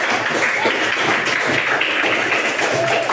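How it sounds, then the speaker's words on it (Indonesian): A classroom of students claps together in a history lesson, a steady, dense patter of many hands lasting the whole moment at a lively, even level. "tepuk tangan buat kita."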